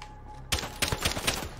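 Close, rapid automatic gunfire in Modern Warfare, a quick rattling burst of about half a dozen sharp shots starting abruptly after near silence.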